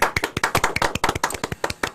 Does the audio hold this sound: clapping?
yes